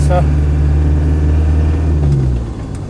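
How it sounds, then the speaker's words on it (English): Land Rover 90 with a 200TDi turbo diesel engine running, a steady low diesel drone that drops off near the end, with no talk heard. "it has been fitted with a 200 TDI engine"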